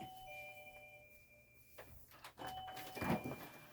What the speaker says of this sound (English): Does your doorbell work? Yeah, it does.